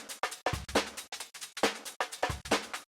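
Swung UK garage breakbeat drum loop chopped into slices, punchy kicks and snares with crisp hats repeating in a tight, slightly choppy shuffling pattern, loud and alone.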